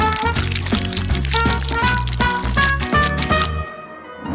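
Water poured over a paper drawing, a loud, continuous gurgling splash lasting several seconds with bubbling ripples, ending abruptly into near silence.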